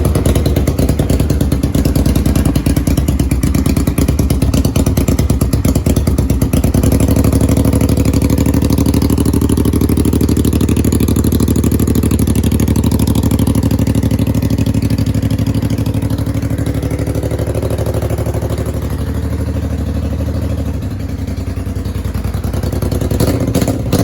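A Honda Shadow 500 motorcycle engine idles loudly and steadily through a tacked-together X-pipe exhaust, a deep rumbling burble with slight clatter that holds throughout, near and alone.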